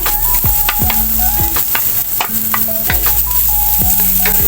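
Garlic and onion sauté in a pan for a crab and bamboo shoot coconut-milk dish, a constant loud sizzle broken by repeated scraping stir strokes, with steady tonal sounds running underneath.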